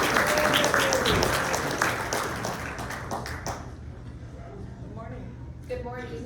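Audience applause at a community morning event, a dense steady wash of clapping for about three and a half seconds that thins and fades, with a voice starting to speak near the end.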